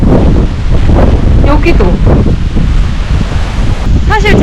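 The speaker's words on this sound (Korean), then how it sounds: "바람 소리 때문에 잠을 잘 수 있을지 모르겠는데" Strong wind blowing across Manisan mountain during solo backpacking, roaring and buffeting the microphone steadily throughout, with a person briefly speaking under the gusts.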